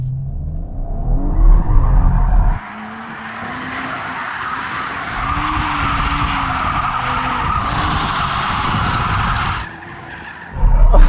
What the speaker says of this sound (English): It does start to go straight, so you can't do like a constant donut, but you can spin it around.